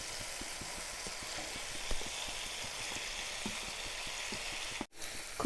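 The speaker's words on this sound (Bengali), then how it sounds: "এখন আমি সর্ষে দিয়ে ম্যারিনেট করে রাখা চাল কুমড়োগুলো দিয়ে দেব এর মধ্যে।" Young ash gourd marinated in mustard fries in a pan with spices and tomatoes, making a soft, steady sizzle with scattered small pops and a brief cutout near the end.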